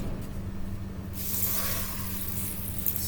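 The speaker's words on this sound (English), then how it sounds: "spray gently just to moisten it up" A spray bottle mists water onto a thin layer of soil prepared for gehu (wheat) seeds, giving a soft hissing spray that starts partway through and continues over a low steady hum.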